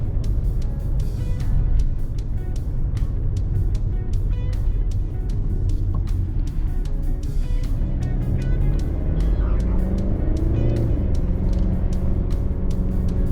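A Mercedes-Benz E220d W213 diesel engine, 195 horsepower, hums steadily from inside the car as it drives, with a continuous low drone and a brief shift in pitch partway through.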